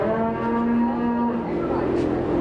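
A cow at a county fair cattle barn lets out a long, loud, close moo with a rising pitch shift midway, alone over faint hall background.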